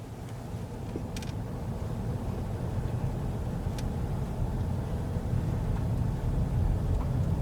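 A car rolls uphill in neutral with the engine quiet, giving a steady low rumble of road and tyre noise with some wind buffeting and a couple of faint clicks, and no one speaking.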